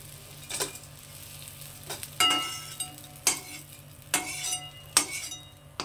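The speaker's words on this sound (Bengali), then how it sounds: "দেখুন বন্ধুরা, উচ্ছেগুলো ভাজা হয়ে গেছে। তখন আমি উচ্ছেগুলোকে তুলে নিচ্ছি।" Bitter gourd frying in mustard oil in a kadai, with a quiet sizzle under repeated clinks and scrapes of a utensil as the pieces are lifted out, several distinct strokes spaced about a second apart.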